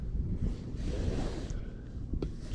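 Strong wind roaring across a snowy stretch of Tucker Mountain, a steady low rumbling buffet of gusts hitting the microphone throughout with no letup.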